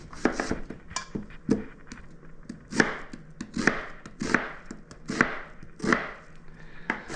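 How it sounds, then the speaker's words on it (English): A knife dices red onion on a cutting board for a farmer salad, with sharp, uneven chopping strokes that come in quick clusters close by. "Just want about 3/4 of a cup of diced red onion"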